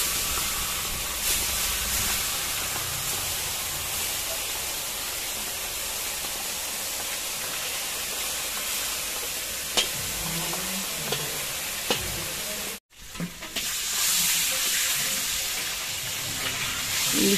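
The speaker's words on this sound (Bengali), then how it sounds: "তেল গরম হয়ে গেছে, এবার আমি ইলিশ মাছের মাথাগুলো ভেজে নেব" Hilsa fish heads sizzle and spit in hot oil in a wok, a steady frying hiss with occasional stirring clatter, briefly cut off before the sizzling resumes loudly.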